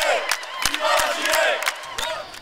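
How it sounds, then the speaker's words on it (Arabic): Algerian sports fans crowd an arena during Mediterranean Games competitions, chanting and cheering in loud, rhythmic bursts with sharp claps and shouts rising over a continuous roar of voices. "هتافات أهازيج أجواء حماسية."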